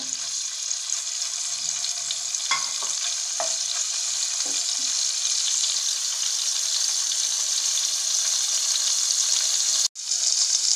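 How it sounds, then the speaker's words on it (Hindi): Paneer frying in leftover oil in a pan: a steady, loud hiss and sizzle with a few soft stirring knocks early on, cutting out briefly near the end before the sizzle returns. "अब पैन में जो ऑयल बचा हुआ है उसी में हम 2 मिनट के लिए पनीर को भी फ्राई कर लेंगे"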